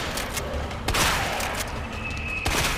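Gunfire in the Resident Evil 2 Remake video game, several sharp close shots cracking over a dense, noisy game soundscape, with the loudest blasts near the start and end.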